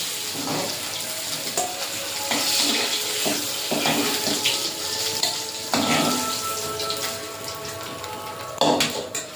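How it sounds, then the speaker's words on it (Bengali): Potato pieces for a fish curry frying in leftover oil in a kadai after the fish has been fried, a continuous hissing sizzle with occasional sharper crackles and spatters, no talk. "এই তেলে ঝোলের আলুটা ভেজে নেব"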